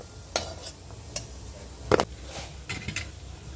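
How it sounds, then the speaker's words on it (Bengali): Goja sweets frying in oil give a faint, steady bubbling. Several sharp clacks from a utensil against the pan punctuate the sizzle. "দেখুন ভাজা আমাদের হয়ে গেছে এরকমভাবেই সব কটা ভেজে নেবো"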